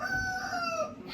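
A rooster crows once at moderate distance beside an African home kitchen, a single drawn-out crow with a clear tonal rise and fall.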